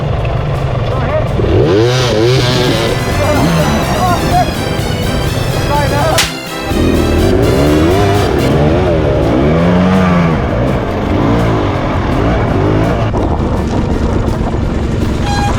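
Dirt bikes in a hard enduro race at Monkey Wrench, a 2023 Husqvarna TE300 Heritage among them, with two-stroke engines revving and bogging nearby, rising and falling whines overlapping, under constant talking.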